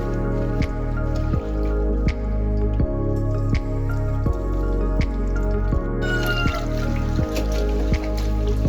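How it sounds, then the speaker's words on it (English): Farm-fresh vegetables are washed by hand in water outdoors in an African village, giving steady rhythmic splashes and drips about twice a second, close and clear. "so that I can wash the vegetables. And this is how I'll wash them."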